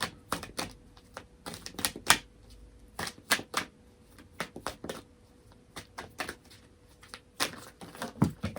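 Tarot cards are shuffled and dealt in quick irregular bursts of crisp riffling and slapping, close and clear, with short pauses between flurries.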